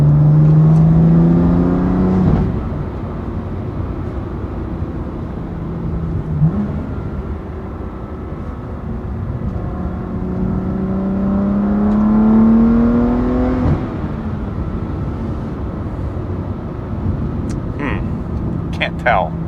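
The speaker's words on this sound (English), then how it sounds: "I think the car sounds different." A BMW M2 CS fitted with a Carbahn Stage 2 piggyback tune drives along, its engine drone rising and falling as it accelerates under an interior cabin hum, and someone talks over it.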